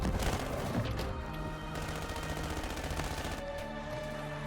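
Sentry turret firing in a video game, rapid bursts of gunfire with crashing impacts set against game music, loud at the start and then continuing as steady repeated shots.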